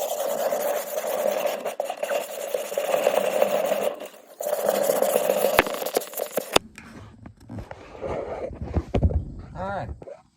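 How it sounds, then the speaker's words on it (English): Sandpaper is rubbed back and forth over a wooden board for a chicken roost, giving a steady gritty rasp in rhythmic strokes that pauses briefly, then gives way to quieter scraping and handling noises. "I got me a good old sheet of sandpaper, so let's start sanding this thing down a little bit"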